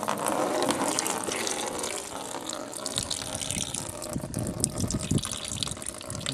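Fluid draining from a removed block plug on a 1982 Chevy C30 one-ton ramp truck engine, a steady close splashing pour with a louder gushing patch midway, alone without talk.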